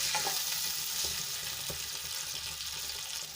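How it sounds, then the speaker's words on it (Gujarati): Water bubbles and sizzles steadily in a pot, a close continuous hiss with small popping bursts. "પાણી આપણું ઉકળી ગયું છે"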